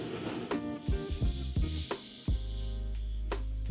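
Butter hisses and sizzles in a hot pan for a redfish catch-and-cook, with a few sharp scraping knocks at the start before the frying settles into a steady, close crackle.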